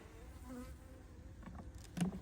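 Honeybees buzz faintly around ranch beehives outdoors during winter feeding, a soft, steady insect hum with a few nearer passes rising briefly toward the end.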